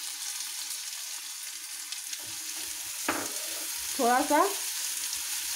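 Capsicum and green chili stir-frying for noodles in a pan, a soft steady sizzle with a few louder scraping stirs near the end, while a voice speaks briefly.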